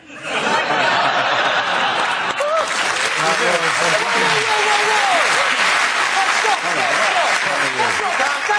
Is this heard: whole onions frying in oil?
no